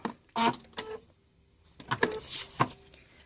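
A sewing machine stitches through foundation paper piecing for a beginner mug rug, running in short mechanical whirring bursts with pauses, close and fairly quiet.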